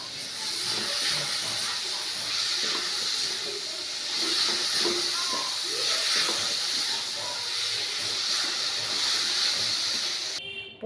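A jaggery and coconut filling for Bengali pithe cooks in a pan, giving off a continuous soft hiss and sizzle with faint stirring scrapes throughout.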